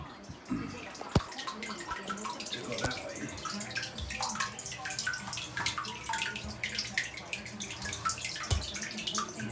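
Water splashes and gurgles steadily in a fish tank, with scattered drips and sharper sloshes from a new 2-in-1 aquarium powerhead, close and continuous with no voices.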